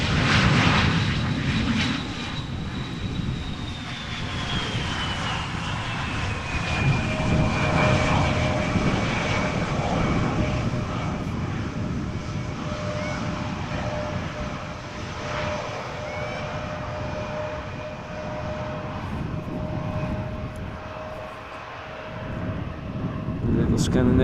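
Scandinavian airliner arriving at Amsterdam Schiphol in gusty crosswind, a sustained jet engine roar with a slowly falling whine, steady and fairly near, buffeted by wind noise.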